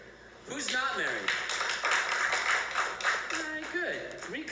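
Scattered audience clapping at a live comedy show, mixed in under continuous talk and laughter from the room for most of the stretch.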